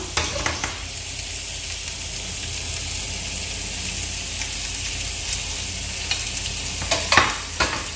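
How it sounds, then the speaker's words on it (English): A spoon stirs ndole with stockfish in a cooking pot over a continuous sizzling hiss, with a few soft clinks near the end. The sound is close and steady, with no talking. "I will be adding my stock fish now."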